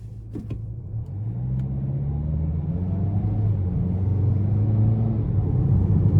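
A 2025 Ford Maverick XLT truck with a 2.0-litre turbocharged four-cylinder pulls away from a stop under hard throttle, its engine note rising steadily in pitch and loudness as it gathers speed, heard from inside the cab.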